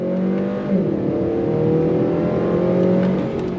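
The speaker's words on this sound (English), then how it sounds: "So you get a small gear indicator, second gear, on throttle, here we go." A 2025 Acura TLX A-Spec engine revs up smoothly accelerating in second gear, its pitch climbing steadily, heard from inside the car at a strong, constant level.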